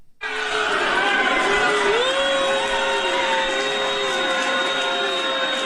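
A crowd at a film festival boos, a loud sustained roar of many voices with rising and falling jeers and whoops carrying on without pause.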